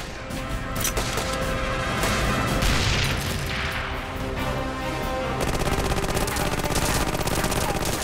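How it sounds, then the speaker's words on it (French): Thompson submachine gun fire crackles in dense rapid bursts amid booms and crashes of a wartime battle scene, loud and continuous throughout. "Une seule rafale de son Thompson tue tous ceux qui en sortent."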